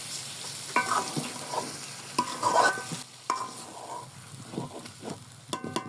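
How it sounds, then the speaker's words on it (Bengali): Loitta fish being gently stirred into a frying spice masala, with soft scraping stir strokes and light sizzling coming in several separate bursts, close and fairly quiet, with no talking. "মাছ দেওয়ার পর কিন্তু আর খুব জোরে নাড়া যাবে না আস্তে আস্তে করে নাড়তে হবে"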